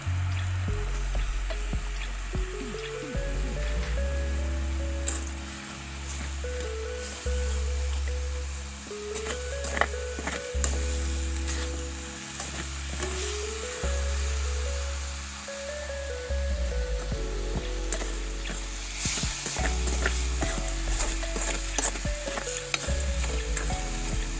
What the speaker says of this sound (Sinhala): ඉතුරු පොල් ටික දාගන්න ඕනේ.